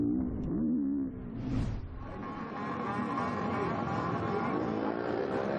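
MX2 motocross bikes on a sighting lap before race 1 at the MXGP of Trentino, with engines revving and roaring past at fairly close range in a continuous loud buzz.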